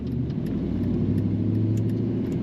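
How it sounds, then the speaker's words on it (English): A 1990 GMC Sierra 1500 pickup, slightly lowered with an automatic transmission, idles with a deep, steady low rumble from its engine, heard close and alone. "Nice rumble to this truck"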